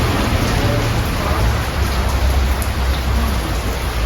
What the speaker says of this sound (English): A rainy day, nice weather for Chinese food.